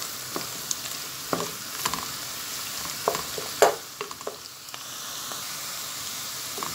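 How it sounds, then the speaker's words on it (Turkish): Quiet frying sizzle of onions in a pan with scattered stirring clicks and scrapes, steady and soft throughout, no voices. "Soğanlarımız pembeleşene kadar kavuracağız."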